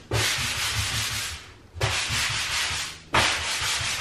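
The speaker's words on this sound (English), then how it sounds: "I have a sanding block and I'm just gonna, it's just a little rough" A hand sanding block rubs back and forth over a rough closet surface during a walk-in closet renovation, giving three long, even rasping strokes with brief pauses between them, close and clear with no talking.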